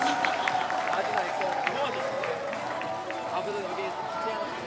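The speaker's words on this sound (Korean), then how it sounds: "박수 한번 주십시오." Audience applause fills a hall at a political talk concert, a dense, steady wash of clapping mixed with crowd cheering and babble that holds at an even level throughout.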